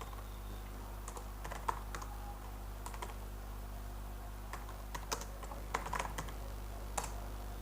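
Keys on a computer keyboard are typed in scattered short bursts over a steady low hum, the clicks close and fairly soft.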